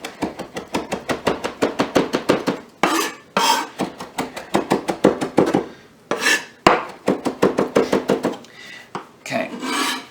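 A knife chops cilantro finely on a cutting board in rapid, evenly spaced taps, broken by a few short scraping pauses, close and crisp with no talking.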